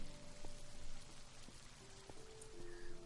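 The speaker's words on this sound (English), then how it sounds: "Raining again." Steady rain falls in a video game world, with a soft, even patter and hiss that continues throughout, and a few faint tonal blips from the game over it.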